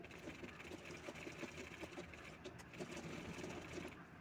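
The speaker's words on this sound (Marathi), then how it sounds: "त्यानंतर दुसरी शोल्डर राहिली होती ती शिवून घेते आहे मी" Close sewing machine stitching a brocade silk blouse shoulder seam, a fast, continuous mechanical whirr with faint clicks and no voices.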